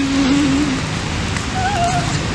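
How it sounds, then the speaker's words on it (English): Heavy rain pours down on Cape Cod as a dense, steady hiss that fills the whole stretch without a break. "Look how much it's raining."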